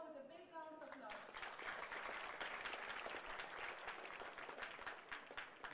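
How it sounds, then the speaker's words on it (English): Audience at a national environmental accounting conference breaks into sustained applause, dense clapping swelling after a spoken introduction and continuing steadily. "Let's welcome Ramacharana with a big round of applause."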